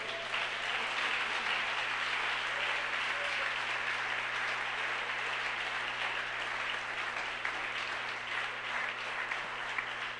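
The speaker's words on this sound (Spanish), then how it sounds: "Dele fuerte un aplauso." A church congregation gives sustained applause during a Spanish-language sermon, a steady dense wash of clapping holding evenly for about ten seconds at moderate distance, with no voices rising above it.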